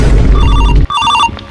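A phone ringtone trills in two quick repeating bursts, loud and close, over a low rumbling background.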